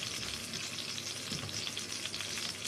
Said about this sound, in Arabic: وانزل بالبصل كده ايه في طاسه الزيت